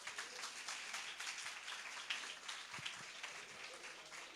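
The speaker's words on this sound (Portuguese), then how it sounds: "Aplauda o Senhor Jesus." Faint, steady clapping comes from a church congregation during a worship service, a soft, even wash of many hands heard from a distance.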